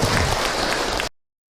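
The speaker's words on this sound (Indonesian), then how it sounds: "Tepuk tangan buat teteh yang bertanya" An audience at an Islamic religious talk breaks into brief, loud clapping that cuts off abruptly after about a second, the crowd close and no voices standing out over it.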